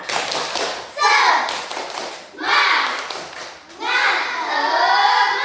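Schoolchildren in a classroom perform a rhythmic clapping cheer, with short bursts of patterned claps alternating with loud group chanting, repeated in three rounds.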